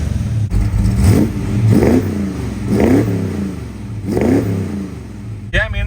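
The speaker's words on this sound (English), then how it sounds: "Do some nice little revs here." A 1982 Mustang GT V8 revs in four or five short, evenly spaced blips, each rising and falling over a loud, rumbling idle close by.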